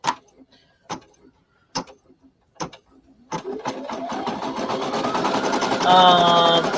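Embroidery machine stitching a name on a 5x7 design, starting with a few isolated clicks and thumps, then settling into a rapid, steady mechanical stitching rhythm that grows louder and continues to the end.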